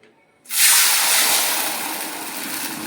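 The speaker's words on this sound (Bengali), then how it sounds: "এক বাটি জল দিচ্ছি" Water poured from a bowl into a pot while making a sugar syrup for Bengali boondi, a loud steady rushing hiss that starts abruptly after a short pause and continues evenly to the end.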